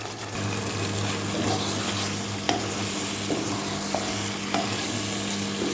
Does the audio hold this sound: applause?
no